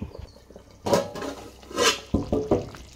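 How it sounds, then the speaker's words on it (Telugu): Metal lid clatters onto a pot of stuffed brinjal masala curry in a home kitchen, a couple of sharp clinks and knocks with a brief rattle of utensils, close and fairly loud with no talk. "ఇప్పుడు మూత పెట్టి ఉడికిద్దామండి."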